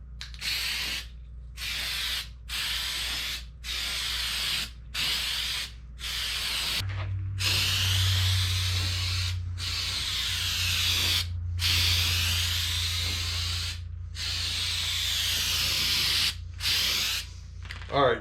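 An aerosol spray paint can hisses in repeated bursts as it coats model railroad roadbed for an O gauge layout, short sprays separated by brief pauses, then a longer continuous spray with a low hum underneath, close and steady.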